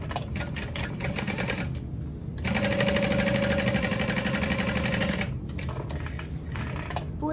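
A sewing machine stitches the seams of a Fortuna backpack with a 3/8 inch seam allowance, giving a steady, fast mechanical whir. It runs louder through a long middle stretch, with quieter machine noise before and after.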